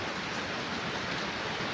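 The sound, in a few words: heavy rain falling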